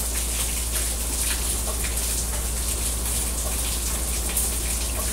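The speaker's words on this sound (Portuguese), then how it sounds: "aproveitar que tá chovendo" Steady rain pours outside a home, a dense continuous hiss of drops hitting surfaces, loud and even throughout with no talking.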